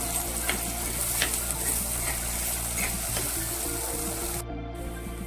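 Food sautés with salt in a hot pan until golden brown for a chilli curry, giving a dense continuous sizzle with a few soft stirring scrapes throughout.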